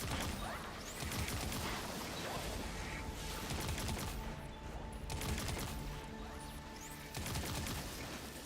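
Repeated volleys of gunfire as a player shoots enemies in a shooter game, clattering bursts at moderate volume with brief lulls between groups of shots.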